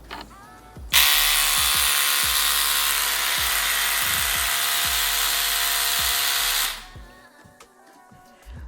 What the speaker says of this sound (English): it's just a little battery operated scrubber